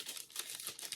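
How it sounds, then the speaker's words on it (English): Packaging crinkles and rustles in quick, faint bursts for about a second, with no voices. "Sorry for the crinkling."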